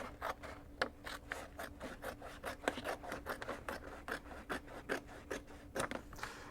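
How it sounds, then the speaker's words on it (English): A pair of scissors snipping through a vinyl sheet beside a Roland GX-24 vinyl cutter, rapid regular cutting strokes with a crisp rasping edge, close and fairly quiet against a steady machine hum. "We're then going to take a pair of scissors and then cut off our vinyl."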